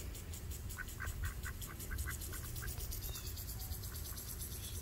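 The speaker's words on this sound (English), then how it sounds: "The ducks are playing in the sprinkler." Ducks in a front yard under a running lawn sprinkler give a few short, faint quacks over a steady hiss of spray and a chirring insect background, with no talk.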